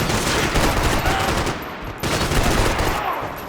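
Sustained automatic gunfire from the shooter game Max Payne 3 rattles loudly and continuously, broken by a brief lull before another burst picks up again.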